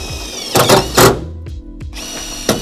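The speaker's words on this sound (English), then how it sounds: "I'm gonna install it with the self-tapping screws" Power drill driving self-tapping screws into a metal plate on a Ford Transit van, with two short loud whirring bursts close up, then quieter clicks and a final brief burst.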